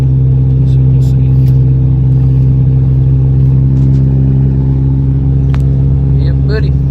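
A Toyota Camry engine runs steadily with a loud, continuous low drone from start to finish, with some background noise on top.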